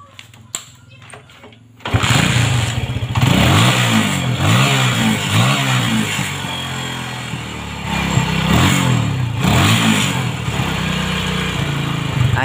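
Honda Megapro motorcycle engine with a throttle cut-out fault, starting after a few clicks and then running close and loud, with repeated revs rising and falling over a steady idle.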